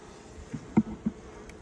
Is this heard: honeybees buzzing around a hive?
yes